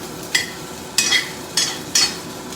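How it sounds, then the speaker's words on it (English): Peas tossed and stir-fried into Sichuan shrimp fried rice in a hot pan, with four bright scraping, sizzling strokes of the spatula at an unhurried rhythm over a steady low frying hiss. "Let's add peas."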